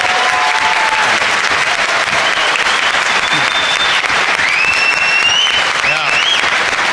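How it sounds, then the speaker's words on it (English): An audience at a talk on atheists and Mormons gives a sustained round of applause, steady dense clapping throughout, with some faint voices and whistles mixed in. "Could we give Paul Reeve a round of applause?"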